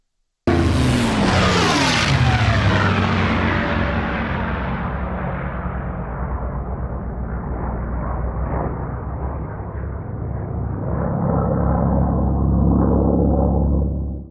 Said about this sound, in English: Let's get these rotor blades turning.